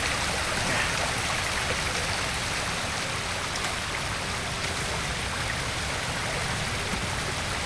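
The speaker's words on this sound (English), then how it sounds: "Run around the waterfall." A waterfall in the video game Ghost of Tsushima, on Izuhara, gives a constant loud rush of water, an even hiss that never changes and plays alone with no voices.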